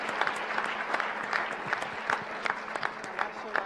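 Applause from an audience at a candidates' debate, sparse and uneven with distinct individual claps standing out, at moderate volume and heard from across the room.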